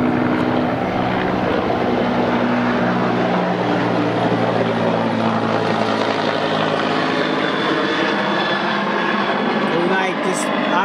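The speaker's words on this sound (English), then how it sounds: "you're going to hear them in the background" Continuous loud helicopter rotor and engine drone near an airfield in Jalalabad, Afghanistan, holding steady throughout with someone talking over it.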